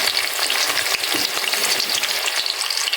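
Chopped onion, garlic and cinnamon sizzling in hot oil with cumin seeds, a dense, loud crackling fry with stirring scrapes throughout and no voices.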